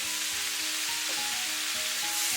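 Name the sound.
stir-frying cauliflower with scallion segments in a wok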